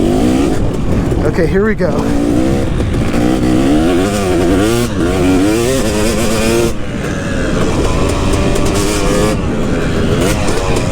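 Two-stroke motocross bike ridden hard around a dirt track with jumps, its engine revving up and down in rapid rising and falling sweeps, close and loud throughout, while a rider speaks briefly.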